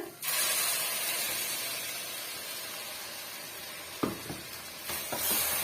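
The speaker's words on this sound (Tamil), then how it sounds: "இப்ப நம்ம அரைச்சி எடுத்துட்டு வந்த விழுதை இதோட நம்ம சேர்த்துடலாங்க." Ground masala paste drops into a hot pan of sautéed masala for roadside-style parotta salna, setting off a loud, steady sizzle and hiss with a few soft clatters of the paste landing and being stirred, no voices.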